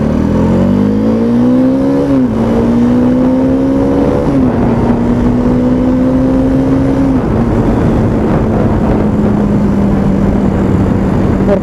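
Bajaj Dominar 400cc motorcycle engine while riding off-road, a loud close droning hum that rises with each gear as it accelerates, then settles into a steady cruise; wind noise throughout, no talk.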